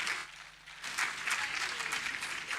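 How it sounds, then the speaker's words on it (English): Applause from a crowd swells after a brief lull, steady clapping filling the room for a couple of seconds. "Please clap for her."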